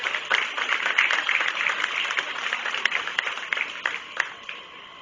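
Audience applause in the ring at the 2017 Hocking County Fair goat show, steady moderate clapping from a small crowd heard at some distance, holding evenly for several seconds before thinning slightly.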